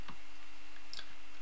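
A computer mouse clicks the Done button during a Red Hat Enterprise Linux 7 installation in VirtualBox, producing two quiet, sharp clicks about a second apart over a faint background hiss.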